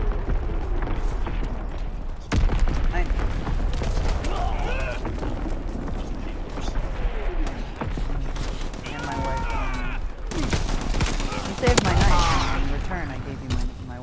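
Dense gunfire from the World War II shooter Call of Duty WW2. Rapid automatic bursts and shots go off over a constant battle din, with voices speaking now and then.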